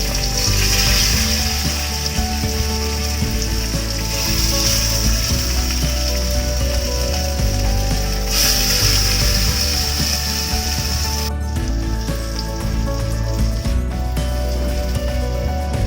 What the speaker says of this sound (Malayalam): എന്നിട്ട് നമ്മുടെ മത്തി ഇങ്ങനെ നിരത്തി വെച്ചിട്ട് പൊരിച്ചെടുക്കാം.